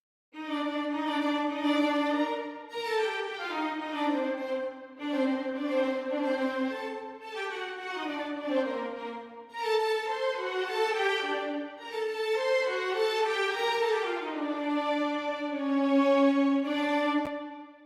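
Sampled violins play the slow, lyrical main theme of Mozart's Symphony No. 40 in sustained, gliding notes, clean and alone, with no other instruments or voices.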